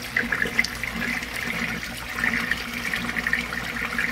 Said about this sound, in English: There you can see this side's going to have a lot of flow.